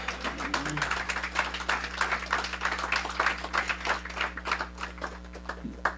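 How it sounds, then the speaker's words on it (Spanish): A church congregation applauding, steady close clapping from many hands filling the whole stretch under a low hum, with some voices faintly mixed in. "Denle un aplauso al Señor."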